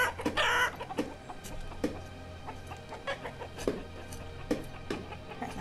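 Chickens cluck in the Banished town-building game, with repeated short clucks and calls over a low steady ambient bed, at moderate volume and with no talking.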